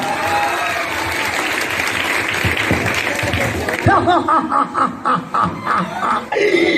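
Audience at an Oriya comedy show breaking into applause that runs for several seconds, then gives way to chuckles and scattered laughter, with bursts of a voice over the top.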